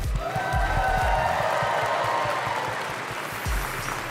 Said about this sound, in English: a round of applause to the diligent staff, judges, production crew